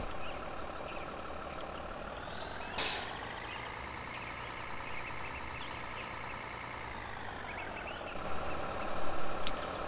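A vehicle engine idling steadily in Farming Simulator 2013, a continuous low droning hum with a brief hiss partway through and a slight swell near the end, alone without talk.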